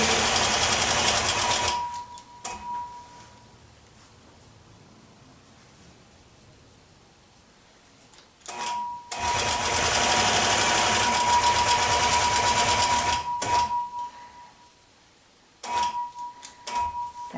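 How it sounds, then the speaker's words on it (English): A longarm quilting machine stitches binding onto a quilt a quarter inch from the edge in bursts of steady, high-speed needle hum, running about two seconds, then several seconds, then briefly again, with quiet pauses between runs and no talking. "stitching 1/4 inch from the edge of the top of the quilt"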